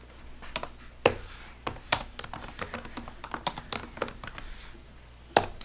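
Quick bursts of typing on a computer keyboard, light plastic key clicks coming in irregular clusters with brief pauses, close and fairly quiet with no talking.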